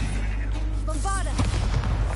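A Bombarda spell blast in the Hogwarts Legacy video game, one heavy thudding boom partway through, followed by rumbling debris, with a voice speaking just before the impact.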